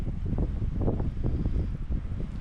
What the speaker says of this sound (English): You see these gusts? It's like 15-mile-an-hour gusts or more.